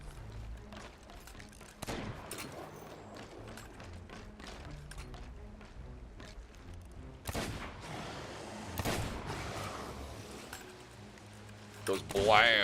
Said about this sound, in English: I love how the cannon just sounds like it just like punches the shark in the face.